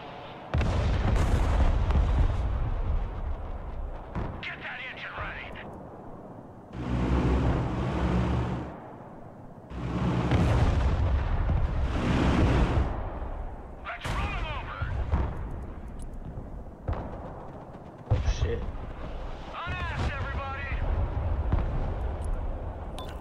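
Heavy explosions as a supply dump is hit in the Broken Arrow war game, repeated deep booms and rumbling blasts swelling and fading across the battlefield, with voices chatting between them.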